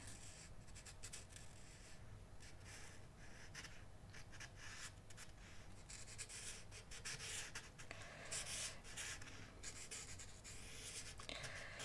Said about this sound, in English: I'm going to take my Sharpie and try to add some line work to make the basis for my sketch.